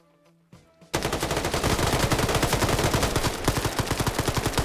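Loud sustained automatic gunfire in a video game team fight, starting abruptly after a moment of quiet and then hammering away in a steady rapid stream of shots.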